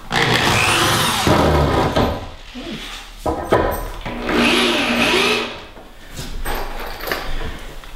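A power drill drives 2-inch screws into a wooden bed frame board, giving several whirring, grinding bursts of a second or two with short pauses and wood-creaking clatter between them.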